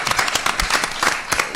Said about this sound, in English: My dear friends, a round of applause for Francesca.